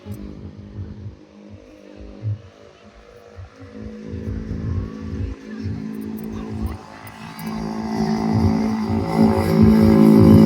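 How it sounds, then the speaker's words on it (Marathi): A car or motorcycle engine approaches along a road near Kalamb bridge in Nalasopara, its low rumble building steadily and growing loudest at the end as it draws close and passes. "गाडी आली गाडी आली गाडी आली गाडी"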